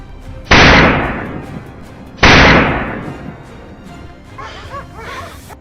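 Two loud gunshots about two seconds apart while hunting wild boars on a Texas farm, each with a long rolling echo, followed by faint distant barking.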